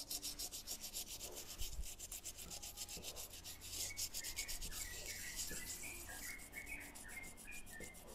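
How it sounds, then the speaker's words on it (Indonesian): Sandpaper scrubbing carbon deposits off a Toyota Avanza engine piston during an engine overhaul, a steady close rasping rub that repeats in quick strokes throughout, with no talking. "Coba kita amplas dulu yang bersih."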